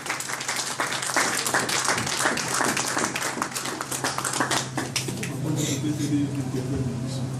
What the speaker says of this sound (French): Nous avons applaudi pour notre interprète.